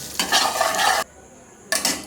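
Turmeric and salt stirred into hot oil in a wok, a loud close sizzle with scraping stirs for about a second, a short lull, then another burst of sizzling.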